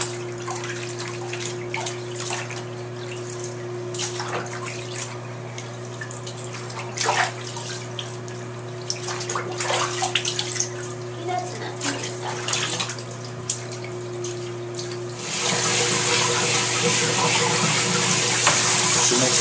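Tap water runs steadily into a tub while a dog is bathed, a low hum underneath and scattered splashes and knocks, the flow growing louder and brighter near the end.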